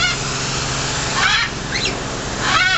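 Goose-like birds honk at a zoo, several loud nasal calls in quick succession, close by and repeated over a few seconds against a steady outdoor background.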